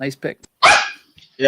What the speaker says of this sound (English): Sorry about my dogs going nuts.